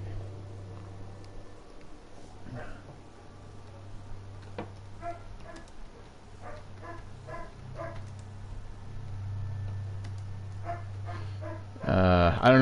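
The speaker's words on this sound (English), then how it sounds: "I don't know if you can hear the dog in the background" A dog barks in the background of a room during a Destiny 2 gaming session, with a series of barks in the middle under a steady low hum, then a loud burst at the end.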